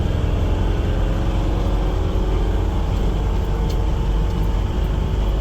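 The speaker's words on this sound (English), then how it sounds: "see how the motor kind of wants to die?" A C10 truck with a hydroboost brake setup rolls and brakes, its engine nearly stalling under a loud, steady rumble of motor and road noise, with no voices.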